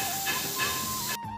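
Leafy greens hit hot oil in a pan, setting off a steady, close hiss that holds for about a second before cutting off abruptly.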